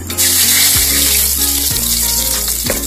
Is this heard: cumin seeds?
yes